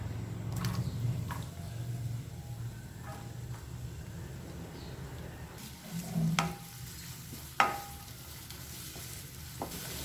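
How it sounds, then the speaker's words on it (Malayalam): Small onions sizzle in hot coconut oil while cooking Kerala-style okra, a low continuous frying hiss with a few sharp spoon scrapes and one louder clack near the end. "നമുക്കിതിലേക്ക് ചെറിയ ഉള്ളി ഇട്ട് കൊടുക്കാം."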